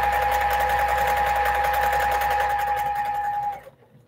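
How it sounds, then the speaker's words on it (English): A sewing machine stitches quilt blocks in a steady, continuous run with a bright whine, loud and close, stopping abruptly near the end. "And I just continue to sew it"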